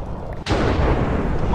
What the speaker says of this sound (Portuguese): E não para de explodir raio na minha cabeça!